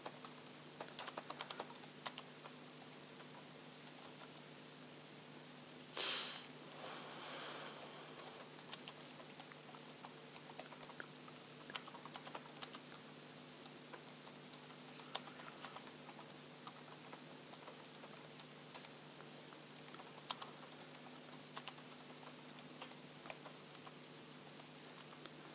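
Steady keystrokes on a computer keyboard as a heading is typed into a job application, soft rapid clicks continuing throughout over a constant low hum, with no talking.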